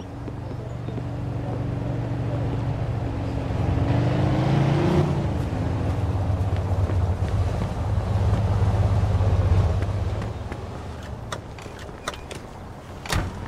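A car engine hums and rises as it pulls away in the video game Mafia II: Definitive Edition, then settles into a steady drive, with clicks and knocks toward the end.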